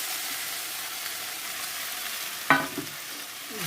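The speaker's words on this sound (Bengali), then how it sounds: "তো আলু দিয়ে ফুলকপি দিয়ে ভালো করে কষানো হয়ে গেছে।" Potatoes and cauliflower sauté in spice masala, giving a low, steady sizzle with a sudden sharp clack of a utensil against the pan near the end, followed by a brief stirring scrape, nearby and with no voices.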